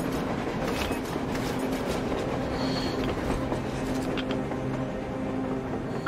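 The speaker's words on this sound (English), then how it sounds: "A train! A damn train on the surface!" A train rolling past on the surface in the game Metro Exodus: a continuous low rumble with mechanical clatter and faint squealing tones, steady and moderately close.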